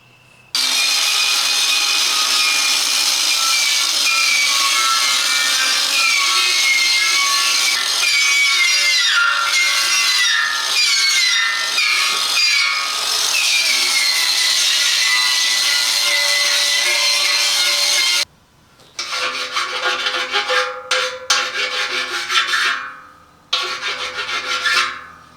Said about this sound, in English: just going around looking for any jagged edges in the rim and just filing it down